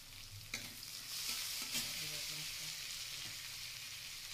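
Cabbage frying with turmeric powder in a pan gives a steady close sizzle, with a few spoon scrapes and taps as it is stirred.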